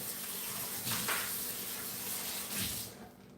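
Bowl rinsed under a running kitchen tap, a soft, steady water hiss with a couple of brief splashy swells, stopping near the end.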